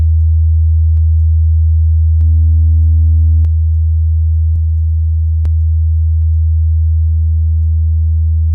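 Test tones run through the Tape 1 preset of a free compressor plugin: a loud, steady low sine drone with stepped upper tones changing every second or so, clean and synthetic, no voices.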